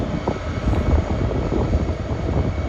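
A private jet takes off at Schiphol airport, its engine roar a steady, broadband rumble that holds fairly loud and even throughout without talk.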